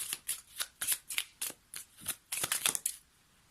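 Tarot cards are shuffled by hand in a quick series of crisp riffles and soft flutters, close and fairly quiet.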